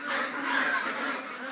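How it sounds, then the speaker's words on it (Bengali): A flock of white Pekin ducks on a farm in Rajarhat, Kurigram, sends up a steady, fairly close wash of overlapping quacks and honking calls that runs through without a break. "শ্বেত শুভ্র এই হাঁসগুলো পেকিন জাতের, বাজারে বেইজিং হাঁস নামেও পরিচিত।"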